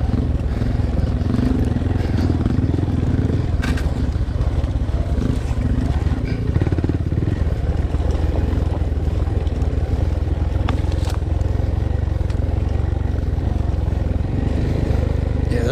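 A Honda Monkey motorcycle climbs the Bald Mountain jeep trail, its small engine droning steadily and loud throughout, with brief rises in revs and rough trail rumble beneath.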